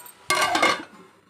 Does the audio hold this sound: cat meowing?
no